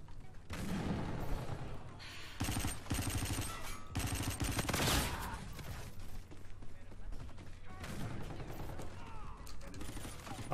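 Video game gunfire crackles in near-continuous rapid bursts, with automatic fire and scattered sharp shots layered over a steady low drone.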